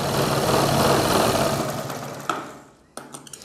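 Steady mechanical whir of a sewing machine stitching a kurti collar, loud and continuous, then slowing and stopping with a couple of brief clicks and restarts near the end; no talking.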